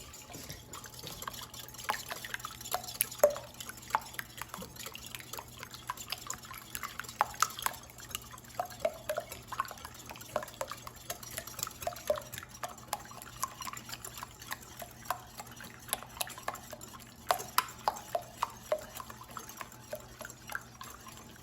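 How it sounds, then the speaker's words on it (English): Eggs whisked until smooth in a bowl for Swedish pancakes: a quick, steady run of light clicking and liquid slapping taps, close and fairly quiet, with no talk. "And now I'm going to mix the eggs until smooth."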